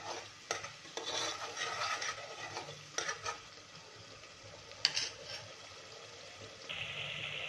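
Onion, tomato and ginger-garlic paste masala for a prawn pulao being sautéed and stirred in a pan, with a steady soft sizzle and intermittent scraping strokes at close range, and no voices.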